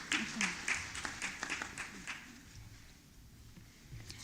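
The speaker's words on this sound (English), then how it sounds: "A round of applause for Eva." Brief, scattered applause from a modest audience at a development forum, a few seconds of light clapping that thins out quickly, with faint murmuring underneath.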